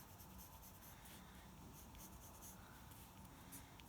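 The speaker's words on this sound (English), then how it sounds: "Hatching, I'm going to do it, again, we're going to try pencil flat, side of pencil, pencil point." A pencil scratches steady hatching strokes across paper, a continuous soft rasp that is faint and close, with no talking.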